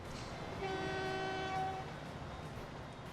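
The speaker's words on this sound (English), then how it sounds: "This is one of my favourite things, is just actually watching the trains." Trains running in the Transport Fever video game: a steady rail rumble with a sustained train horn tone sounding for about a second, mid-level and unaccompanied by talk.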